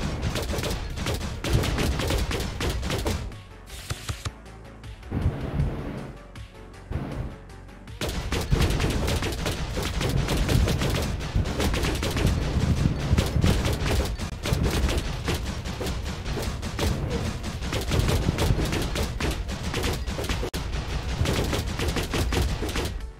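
Split-shot gunfire in an indie roguelike action game rattles in dense, rapid volleys of crackling shots, nearly continuous and loud, with a short quieter lull partway through.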